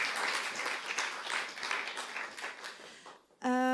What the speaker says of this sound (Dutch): Applaus voor Ilse alsjeblieft.